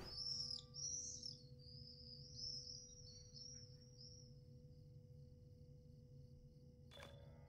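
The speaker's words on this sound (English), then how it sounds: "clearly you hear the birds" High, thin birdcalls chirp in short bursts in The Lord of the Rings Online for the first few seconds over a steady low electronic hum, then fade; a brief click sounds near the end.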